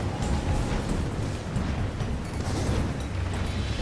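A destroyed target explodes in the video game Crimson Dragon as a sustained, roaring blast of broadband rumble that holds steady at a loud level for several seconds.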